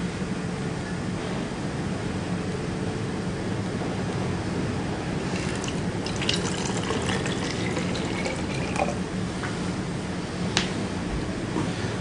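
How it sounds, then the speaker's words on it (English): Water being measured out into a container while making a through-hole activator for copper plating: a continuous trickling pour with light clinks of glassware, steady and close, with no talk. "In the meantime, I'm going to measure out some more water."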